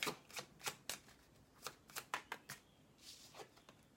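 Lenormand oracle cards being shuffled by hand, a run of quick, crisp riffling snaps in an uneven rhythm, close and quiet, with no talking.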